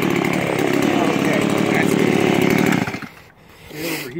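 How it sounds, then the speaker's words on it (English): A chainsaw engine roars steadily up close, then cuts off abruptly and idles down before revving briefly again. "how do you feel about your new chainsaw?"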